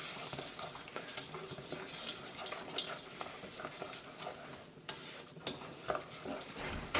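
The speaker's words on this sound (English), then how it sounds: "And give it a good stir up." Stovetop stuffing with butter is stirred in a pot, giving a soft continuous scraping and patter, faint and close with no voices.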